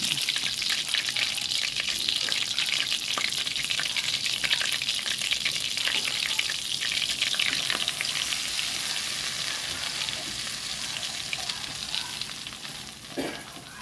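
Chicken fries in melted butter in a pan, a loud, dense sizzle that runs unbroken throughout, easing slightly toward the end.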